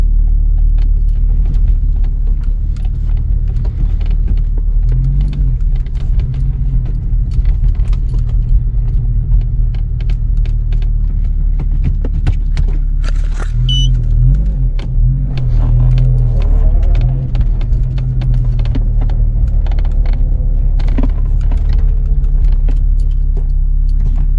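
Car with a sunroof driven up and forced over a curb, a heavy low engine rumble throughout with faint creaks and rattles from the body and occasional sharper knocks as the wheels climb.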